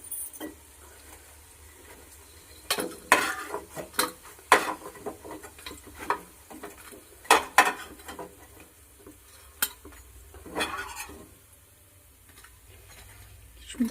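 Fried prawn pakoras lifted from hot oil onto a plate, with clinks and scrapes of utensils against the pan over a faint background sizzle, near and irregular, with a voice talking at times.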